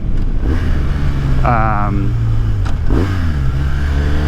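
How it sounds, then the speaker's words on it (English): A 2015 BMW R1200R motorcycle engine idles loudly and close, with two short revs rising and falling, while someone talks over it. "I ride, this is a 2015 BMW R1200R."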